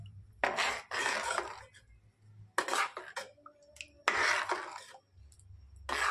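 A utensil stirring fresh butter melting in a kadhai over a medium flame, giving bursts of scraping and clinking in three separate spells with quiet gaps between them.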